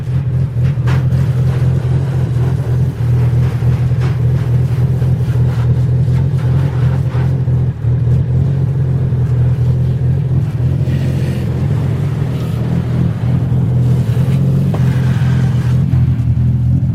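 A cammed Nissan 350z engine running steadily at idle, a loud, continuous low rumble that holds for the whole stretch, with some wind buffeting over it and no talking.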